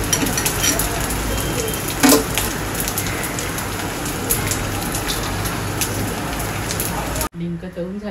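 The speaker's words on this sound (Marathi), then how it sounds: "आता आपण यामध्ये डिंक तळून घेऊया, थोडा थोडा करून तळून घ्यायचा" Edible gum (dink) fries in hot oil for methi ladu, a loud, steady, dense sizzle and crackle that runs without a break for about seven seconds before cutting off abruptly.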